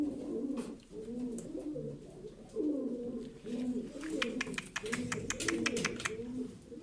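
Pigeons cooing repeatedly in soft, low rolling calls, with some sharp rhythmic clicking or tapping mixed in toward the end.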